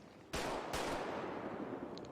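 A single loud gunshot cracks sharply, then a second blast follows closely, each leaving a long rumbling decay that fills the rest of the moment.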